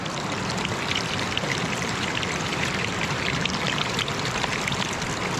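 Steady rushing of flowing river water, a continuous broadband wash with no pauses and no voices, fairly close and even in level throughout.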